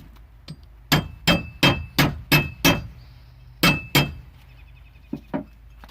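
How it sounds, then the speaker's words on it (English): A hammer taps a metal spacer onto a Flo Torq Reflex propeller hub kit in a quick run of six ringing taps, then a pause, two more, and a couple of lighter taps, close and clear. "give it a few taps with the hammer"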